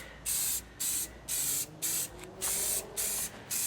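Aerosol spray paint hissing onto a homemade PVC hydrant geocache in a series of about seven short, close bursts with brief pauses between them, no talking.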